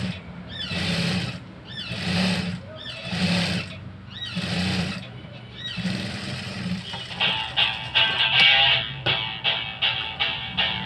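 A sewing machine stitching a patch-work blouse runs in short bursts, each whirring run separated by brief pauses, then settles into a faster, sustained stitching rhythm near the end, close and loud with no talk.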